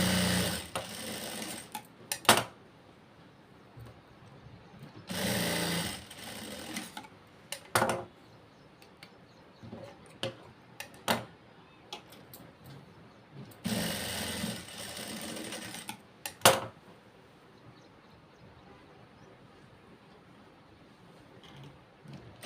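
Sewing machine stitching a blouse, running in three long whirring bursts separated by quieter pauses with soft clicks and handling, recorded close and moderately loud.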